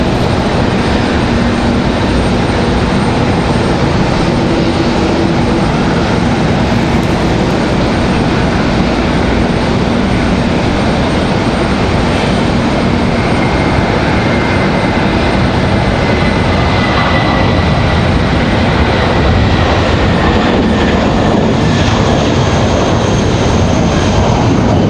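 A JetBlue jet airliner takes off at Raleigh-Durham airport, its engines a loud, steady, broadband roar that holds throughout at close range with no voices.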